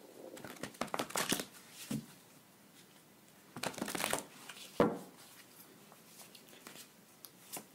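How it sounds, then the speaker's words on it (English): Oracle cards given a ruffle shuffle close by, with bursts of crisp riffling and papery flutter in two or three quick rounds, separated by brief pauses and a few soft taps. "Give them a ruffle shuffle here."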